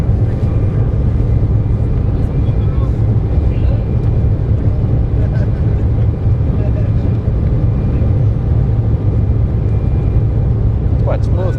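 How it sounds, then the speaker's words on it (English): Cabin noise as a KLM Embraer 190 jet takes off on a Copenhagen to Amsterdam flight, a steady loud low roar of engines and rumble throughout, with no talk. "Quite smooth takeoff. A little bit side to side movement."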